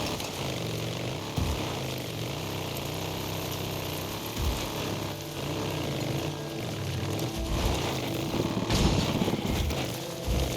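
Motorcycle engine in the Days Gone video game running steadily and loud throughout, a continuous droning rev with small surges and a brief spike near the end, no talking.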